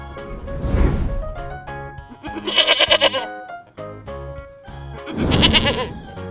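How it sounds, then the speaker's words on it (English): Goats bleat three times in quick succession, loud and close, each a wavering, nasal cry separated by short pauses, with no talking. "Goat. Goat."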